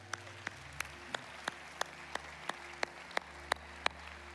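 A church congregation clapping for graduates walking up to the altar, heard as steady, evenly spaced rhythmic claps, roughly three per second, over a low room hum.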